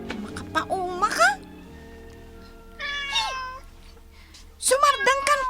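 A cat meows several times in a home scene from an Ilocano drama: one rising meow early, a longer cry near the middle and a louder burst of meows at the end, close and clear over quiet room tone.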